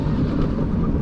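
Steady wind buffets a microphone outdoors beside a pond on a sunny day, a dense, rumbling roar that stays loud and even throughout with no voices.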